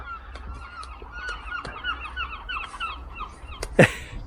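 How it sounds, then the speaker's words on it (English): Seagulls near a harbour give a series of repeated squawking calls, with one louder, closer cry near the end. "seagulls."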